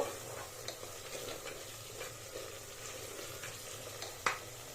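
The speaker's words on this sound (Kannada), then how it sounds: "ನೀವು ಈ ಹಂತದವರೆಗೂ ಚೆನ್ನಾಗಿ ಫ್ರೈ ಮಾಡ್ಕೋಬೇಕು" Masala fries in oil in a pan for a village-style vegetable pulav, a steady close sizzle with intermittent scraping from stirring and one sharp clink near the end.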